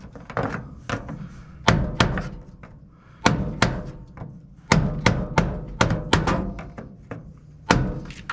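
Heavy hammer blows strike a Dakota/Ram fuel pump assembly in a garage, landing as loud, close, sharp metallic thuds in irregular bursts of two or three with short pauses between.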